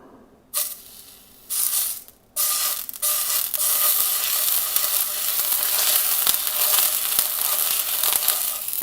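Oxtail searing in a very hot, smoking pan: short loud bursts of hissing as pieces go in, then a continuous fierce sizzle that holds steady, with no voices.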